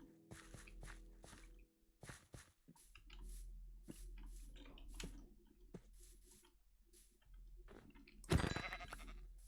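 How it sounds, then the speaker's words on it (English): Black sheep bleating in the Minecraft video game, a few soft bleats scattered over game clicks and footsteps, with one louder, sharper burst near the end. "Black sheep."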